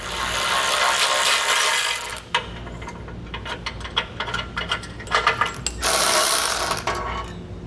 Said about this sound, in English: there's going to be a 16mm bolt on both sides of each tow hook. So we'll go ahead and get those 4 removed.